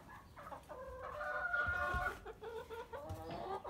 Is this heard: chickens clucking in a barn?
yes